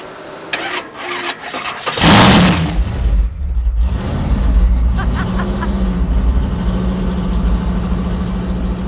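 Supercharged nitrous 1965 VW Beetle dragster engine firing up with a loud burst, then settling into a rough, lumpy idle and rising revs, close by, with brief talk in the background.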